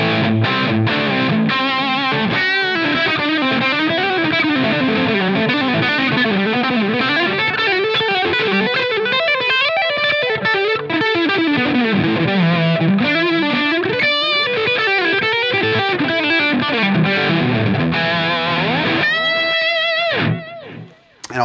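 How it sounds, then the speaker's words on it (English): Electric guitar heavily overdriven through a Bogner overdrive pedal into a Line 6 Helix plays a continuous gritty riff with sustained, saturated notes and bends, loud throughout before cutting off at the end. "all the distortion you're hearing is straight from the Bogner overdrive pedal"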